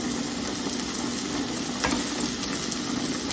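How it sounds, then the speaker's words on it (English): Constant bubbling and hissing of hot pot broth at a rolling boil, loud and close, with a few faint clicks. "Hopefully y'all can hear me over all this boiling."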